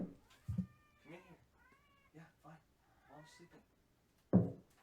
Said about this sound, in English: I hear my cat meowing